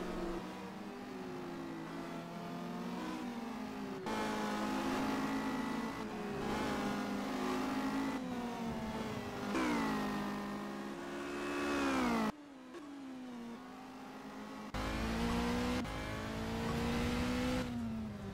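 Race cars in the Simraceway sim racing game accelerate around the Brno circuit, engine notes climbing repeatedly in pitch with sharp breaks at each gear change, steady and close with no voices.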